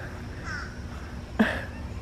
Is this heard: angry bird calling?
yes